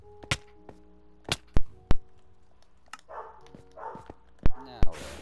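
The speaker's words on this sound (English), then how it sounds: "And my dog is barking like crazy." A pet dog barks in short, sharp bursts from somewhere in the room during a video game session, with several separate barks spread across the moment, mixed with game sounds and a person talking.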